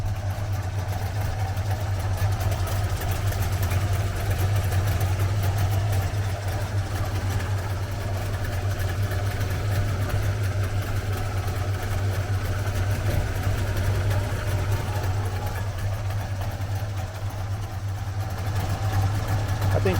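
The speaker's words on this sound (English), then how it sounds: "as far as a Wartburg can run nice with 3 cylinders" A Wartburg car's three-cylinder engine idles steadily once warmed up, a continuous low rumble with a strong bass hum holding evenly throughout, close by and without voices.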